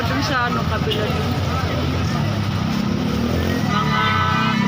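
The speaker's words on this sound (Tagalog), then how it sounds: "Mga sasakyan, mga motor." Cars and motorcycles pass along a busy street in a constant loud rumble of engines, with some horn-like tones near the end, while people talk nearby.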